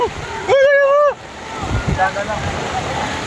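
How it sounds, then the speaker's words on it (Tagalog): Strong typhoon wind during Typhoon Carina in 2024 roars and buffets the microphone with a low rumble, while a loud horn-like tone sounds briefly early on and voices are faintly heard. "Ay, ang lakas ng hangin."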